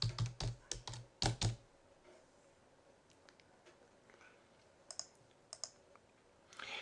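Keystrokes on a computer keyboard, a quick cluster of close, sharp clicks at the start, then sparse scattered taps with quiet pauses between.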